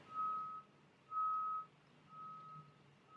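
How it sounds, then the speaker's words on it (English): A dump truck reversing outside an apartment sounds three long, evenly spaced warning beeps, steady and somewhat distant, with no voices. "there's a dump truck right outside my apartment"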